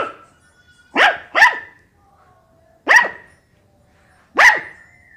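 A man imitates a small dog barking, producing four sharp, loud yaps: a quick pair, then two more spaced apart, with silence in between.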